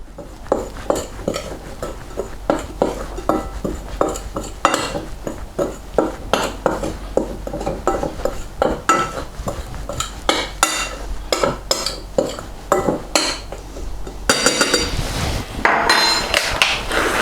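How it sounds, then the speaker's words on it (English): Salt and pepper are stirred into plain flour in a bowl for seasoned flour, with repeated scraping and tapping of a utensil against the bowl in an irregular rhythm, close and moderately loud. "we add our pepper and salt to the plain flour and just mix that in"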